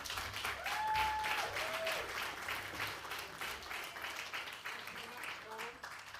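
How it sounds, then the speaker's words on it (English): Audience at a One Young World event during COP26 gives a round of applause, a soft, fairly distant wash of clapping with faint whistle-like tones near the start. "Please let's give him a big round of applause."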